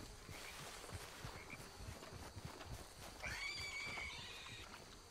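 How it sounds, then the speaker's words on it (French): In Red Dead Redemption 2, during a hunt for a legendary boar, horses trailing the player let out a quiet whinny partway through. It rises over a faint background of hoof and ambient game noise. "derrière, il y a les chevaux qui me suivent"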